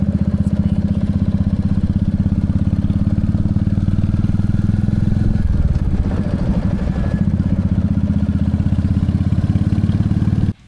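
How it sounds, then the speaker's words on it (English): A Royal Enfield Classic 350 with a modified exhaust rumbles loud and deep, steady at idle and low revs, a throaty, uneven burble that holds throughout before cutting off at the end. "whatever he had here was just a wild beast of an exhaust"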